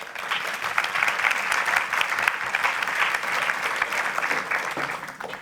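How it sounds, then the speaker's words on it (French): An audience at an evening gathering applauding a person called up to speak, a thick sustained wave of clapping from many hands that holds steady throughout, with no talking over it. "On peut l'applaudir."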